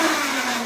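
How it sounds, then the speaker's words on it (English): A blender ricing cauliflower, running as a loud, close, continuous whirring motor drone for the whole short stretch with no pauses. "we're ricing cauliflower using the blender here"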